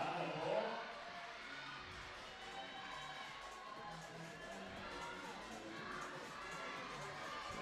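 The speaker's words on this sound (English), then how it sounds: "Crowd are getting behind her though." Spectators at a lead-climbing World Cup semi-final in Kranj cheer and shout encouragement in a steady, moderately distant roar that swells slightly near the end.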